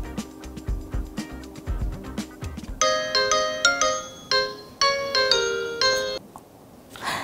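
A telephone call connecting, with a melodic ringtone of bright repeating chimes that starts partway through and rings in a steady pattern for several seconds, following a stretch of lower muffled sounds.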